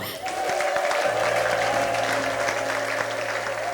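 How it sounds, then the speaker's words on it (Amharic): A church congregation applauds with dense, sustained clapping and a high, steady ululating tone running through it, loud and close, with no speech over it. "እልልታ፣ ጭብጨባ"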